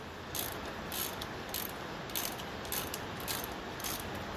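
A wrench ratchets steadily, tightening a nut onto a stud on a Massey Ferguson 35 tractor, giving a close, fairly quiet run of evenly spaced clicks with no talk.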